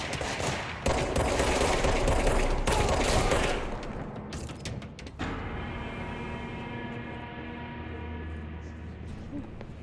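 Rapid automatic gunfire rattles close and loud for a few seconds in the action game Control, then breaks off into scattered shots and a lingering humming game ambience.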